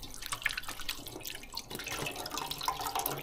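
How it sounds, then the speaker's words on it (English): Tap water runs and splashes while hands are rinsed at a kitchen sink during cooking, a soft continuous trickle with small drips, quiet and close. "let me rinse my hand again"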